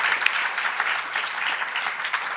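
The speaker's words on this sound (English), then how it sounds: "I think we can clap for that" Applause from an audience at a youth community-service celebration, steady and fairly full for a couple of seconds, with a dense patter of hands and no voices over it.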